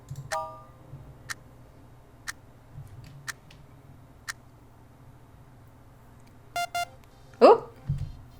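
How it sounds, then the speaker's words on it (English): An electronic lock releases with a short electric beep and a brief chirp near the end, following a run of faint, regular ticking clicks over a low background hum. "The lock opened with a crisp electric beep"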